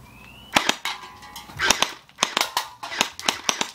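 P90 gel blaster toy gun firing at targets, a run of sharp, snappy cracks, some single and some in quick bursts, loud and close with no talk over them.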